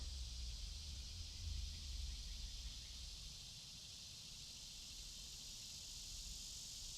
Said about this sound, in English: Man, the cicadas are talking this morning.